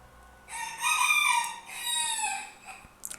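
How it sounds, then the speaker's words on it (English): A rooster crows in Pillars of Eternity II: Deadfire, one long, loud, close cock-a-doodle-doo call split into two drawn-out phrases, with no talking over it. "Hello, Mr. Rooster."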